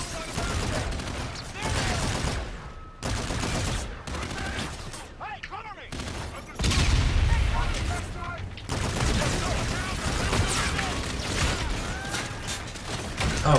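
Gunfire in the campaign of the video game Call of Duty: Infinite Warfare: dense, sustained rattling fire with booms and mechanical clatter, loud and continuous over a battle din, with voices talking throughout.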